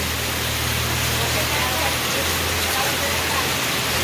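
First monsoon rain falling in a Konkan village, a dense, steady hiss of downpour that fills every moment without a break, with a low rumble underneath.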